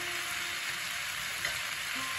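Food sautéing in a pan for Bengali aloor dum, a steady soft sizzle with faint stirring, continuous and close, no voices.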